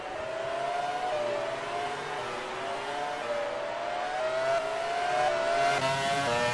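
Race cars in a racing video game's Australian Grand Prix accelerate with a steady, whining engine note that rises and shifts as they pass. The sound is moderately loud, continuous and alone, with no talk.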